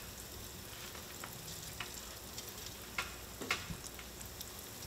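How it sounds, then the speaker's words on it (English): Peacock bass fillets fry in about an inch of peanut oil over medium heat, giving a soft, even crackling sizzle with a few sharper pops and taps, heard alone without voices. "Wow, look at that fry."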